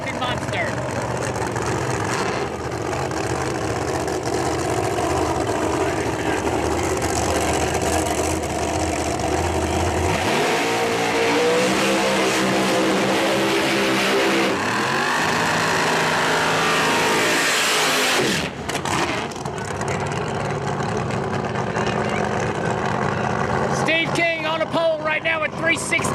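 Nitrous-powered and ProMod drag racing engines at Cecil County Dragway during an NHRA divisional event rumble and rev loudly and continuously, with idling and rising throttle surges, while an announcer talks over the noise.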